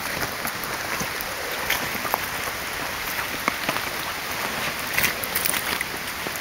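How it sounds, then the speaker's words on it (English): Heavy rain falls steadily on a forest canopy during deer-season scouting, a dense even hiss with scattered sharper drips and patters, close and continuous with no voices. "it's raining pretty hard"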